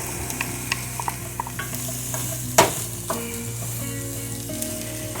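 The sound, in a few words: onion and red pepper sizzling while stirred in pan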